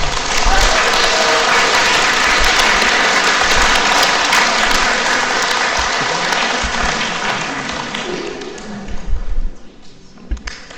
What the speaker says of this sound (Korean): 우리들의 목자 신부님들께 박수 한번 쳐주세요.